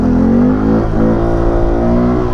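A Honda Grom motorcycle engine revs hard during a wheelie attempt, a loud, close, high-RPM buzzing drone with pitch wavering up and down over about two seconds.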